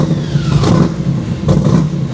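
A built truck engine rumbles loudly and close by, with a deep steady idle that swells twice into short revs before settling back. No one speaks.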